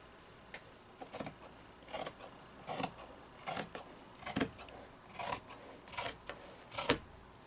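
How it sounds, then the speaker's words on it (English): Scissors cutting through flannel fabric laid flat over a chalk-marked template, a series of about ten crisp snips at a steady, unhurried rhythm, close and fairly quiet with no talking. "cut it with your scissors."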